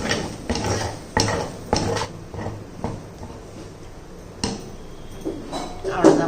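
A spoon scrapes and knocks against a pot while thick ragi kali dough is turned and stirred, giving irregular clanks and thuds with soft scraping in between, close by.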